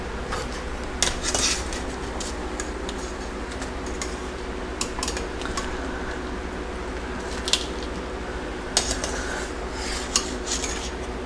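Utensils scrape and clink against a metal pot while spicy boiled shrimp are dug out of it, a steady close clatter with scattered sharper knocks and no talking.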